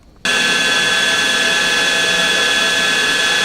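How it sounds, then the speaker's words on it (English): A metal lathe cuts a screwdriver blank, starting abruptly after a short quiet moment and then holding a loud, steady machining whine with a constant high tone for the rest of the clip. "So I'm going to machine this down to 1 inch right now."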